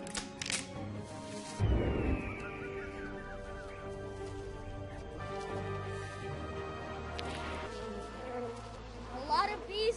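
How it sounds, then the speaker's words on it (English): Bees buzzing in a Jungle Book film scene, a thin insect drone running through the scene alongside music, thuds and brief swishes, moderately loud. "A lot of bees up here."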